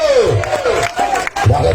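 A crowd roars and cheers at an all-Kerala tug-of-war competition, loud, dense shouting that rises and falls, with a voice calling out over the din.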